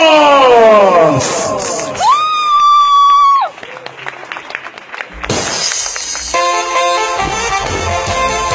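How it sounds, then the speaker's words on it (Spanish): Guests at a quinceañera party applaud together in the later seconds, the clapping mixed with sustained horn-like toots and musical tones, after an opening of whistling tones. "que nos escuchen los aplausos"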